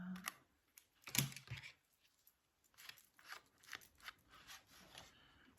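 Small crafting scissors snipping paper, a few quiet, crisp cuts and rustles close by in an otherwise hushed room.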